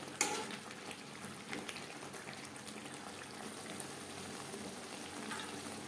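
Potatoes and Shankar fish (stingray) cook in a pan over a high flame for a curry, giving a steady, close sizzling hiss throughout with a slight clatter at the start and no speech.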